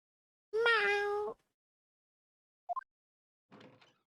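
Cat meow in The Great Ace Attorney Chronicles, heard as one clear, drawn-out meow followed by a short chirp and a softer mew, isolated against silence.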